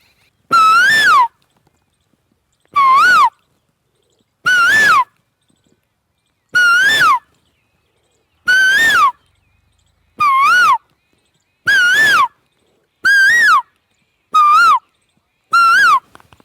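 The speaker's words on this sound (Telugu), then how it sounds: "అందుకొరకు కోయిల యొక్క ధ్వనిని మీరు ఇప్పుడు" An Asian koel calls repeatedly, loud clear rising whistled notes spaced about every second and a half, close and alone against silence.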